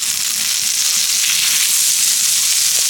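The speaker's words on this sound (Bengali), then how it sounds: "এবার এর মধ্যে আমি বাটার দিয়ে দেব" Butter sizzling and bubbling on a hot tawa over high heat, a loud, dense, continuous hiss heard up close with faint crackles and no talking.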